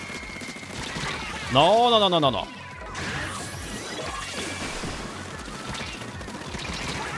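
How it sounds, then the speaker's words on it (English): Bursts and blasts from an online Splatoon 3 match, with a loud warbling, sweeping burst near the start, then a steady clatter of busy game effects; a voice speaks briefly. "A lot of explosions."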